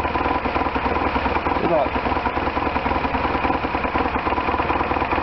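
A 1998 BMW R1100RT motorcycle engine idles evenly after throttle body tuning, a steady, close, low-pitched rumble with someone briefly speaking over it.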